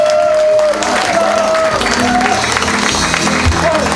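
Welcoming applause from guests at an evening reception for football referees in Gyeongnam, steady clapping filling the room with crowd murmur and overlapping voices throughout.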